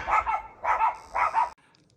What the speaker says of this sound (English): the dogs are barking at something up there